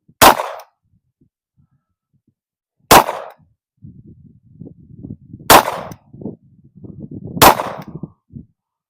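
Four sharp HK VP9X pistol shots at an indoor range, loud and close, spaced a few seconds apart, with quiet rustling and handling noises between the later shots.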